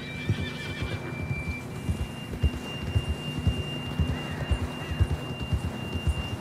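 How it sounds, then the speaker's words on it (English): Horse from the Western game Red Dead Redemption, heard as steady clip-clopping hooves across the whole stretch, with a whinny and a soft snort near the start over a low ambient game hum. "John was riding that horse when we left Blackwater."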